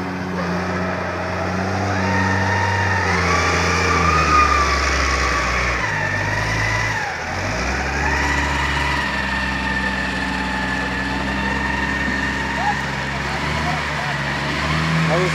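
Fire trucks arriving at a burning car on Avenida Coba in Cancún, a loud engine drone with a siren-like wailing tone rising and falling over rumbling traffic, continuous with a brief dip midway.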